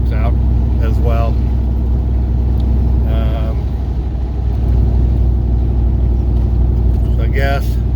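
A 1979 Ford Bronco with an LS swap (L92 engine, 6L80e transmission) cruising on the road, its engine and road noise droning steadily from inside the cab while someone talks over it.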